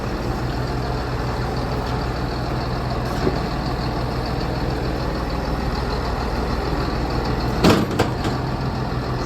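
A hydraulic swing auger running at high flow in a farm shop sets up a steady, loud mechanical drone with an engine-like rumble, holding constant throughout, with a brief clunk near the end.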